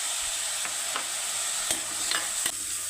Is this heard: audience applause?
no